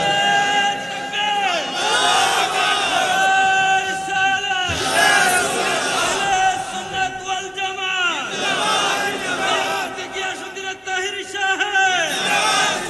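A large crowd at a religious sermon chants a slogan in loud, rhythmic unison, rising and falling in repeated waves of massed voices.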